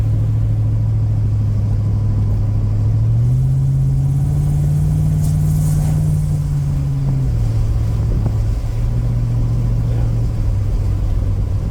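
Avanti car engine running and warming up at idle, a steady close low drone with a brief rise in engine pitch in the middle before settling back, continuous with no talk.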